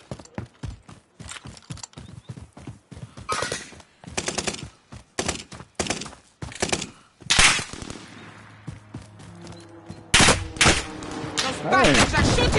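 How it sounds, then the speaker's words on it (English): Enemy gunfire in a video game: rapid bursts of sharp shots, some in quick automatic strings, crack out close and loud with short gaps, joined later by denser, heavier firing. "Bastards are shooting at me!"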